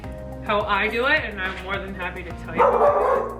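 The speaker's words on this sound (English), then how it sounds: "That's my dog" A dog barks and yips several times close by in a home kitchen while soup is being made, its calls mixed in with someone talking over it.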